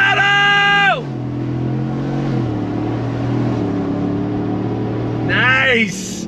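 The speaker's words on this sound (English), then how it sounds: "I got the exhaust valve wide open. We're gonna go on throttle from a dead stop." A 2022 Roush Ford F-150 with a supercharged V8 and its exhaust valve wide open pulls away from a dead stop. Heard from inside the cab, the engine rises in pitch through gear changes, loud and close, while people talk.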